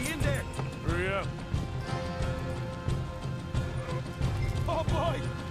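Horses in Red Dead Redemption 2 gallop with steady hoof clip-clop while one whinnies sharply near the start and again near the end, and voices talk over the hoofbeats.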